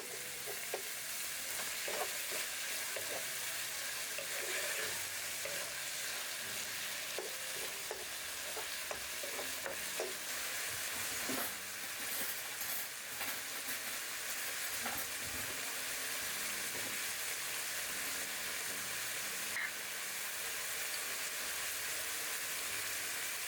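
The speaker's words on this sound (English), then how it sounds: "Add the chopped onions and stir." Chopped onions and ground beef sizzle in a pan while being stirred. The frying hiss is faint but constant, with small scrapes and pops throughout.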